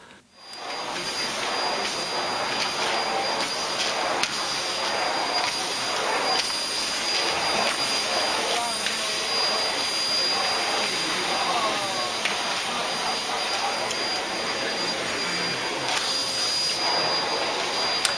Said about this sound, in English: she actually came and asked would I lift my feet so she could vacuum under our table